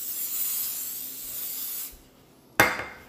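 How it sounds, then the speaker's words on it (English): Cleaner sprays in a steady hiss onto a drill sergeant hat, stops, then comes back as one sharp, close burst of spray. "Spray it all, especially around that brim."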